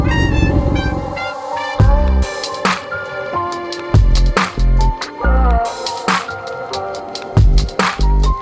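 Road traffic in Almora on a hot day, with repeated loud car and motorcycle horn blasts in short irregular bursts, some overlapping, over a background of engine noise and no talk.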